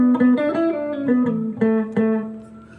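Dry electric guitar recorded direct with no effects, playing a short rock riff of plucked single notes and double stops, close, clean and thin, moderately loud and alone before fading out.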